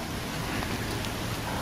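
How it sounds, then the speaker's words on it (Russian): Steady hurricane rain pours down in a constant dense hiss, unbroken and fairly loud, with no voices. "Вот, идет дождь."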